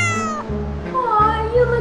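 A cat meows several times in quick succession, close and fairly clear, with no talking.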